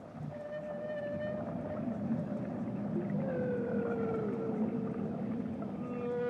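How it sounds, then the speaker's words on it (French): Humpback whale song, long sliding moans and whistling tones rising and falling one after another over a dense underwater rumble, continuous and fairly loud, with no voices. "Les baleines à bosse sont des baleines qui chantent."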